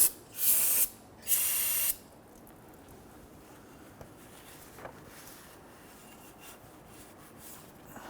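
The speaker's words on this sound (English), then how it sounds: "We're using some spray solvent." Two loud hissing bursts of aerosol solvent cleaner sprayed on residual oil during an oil change on a Nissan Frontier, each under a second, followed by quiet background with a few faint clicks.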